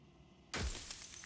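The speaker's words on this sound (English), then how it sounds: "So every time I ask a question, he fucking shatters." A sudden loud shatter of breaking glass bursts out in a video game after a quiet moment, then trails off into a scattered, glittery decay.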